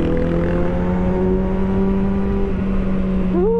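A 2020 Kawasaki ZX6R motorcycle engine holds a steady high-pitched drone, close and loud, with a brief rising rev at the very end.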